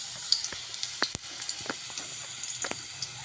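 Onions sizzling in a frying pan, a soft, steady crackle dotted with small pops and occasional light clinks.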